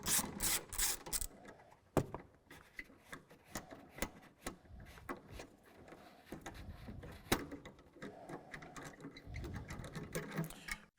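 Bolts removed from the battery protective plate under a BYD Dolphin electric car: rapid ratcheting clicks and metallic rattles come in uneven bursts with brief pauses, close up and fairly quiet.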